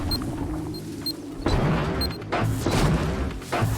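Gunfire in Horizon Zero Dawn: several heavy booming shots and impacts land in irregular bursts, loud and close, with a mechanical rumble between them and no speech.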